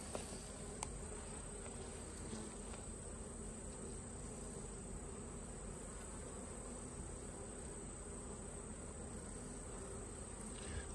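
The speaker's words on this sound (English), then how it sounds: "Looks like the bees are healthy." A steady, dense hum of many bees buzzing close by, continuous and even, with faint ticks and a high whine in the background.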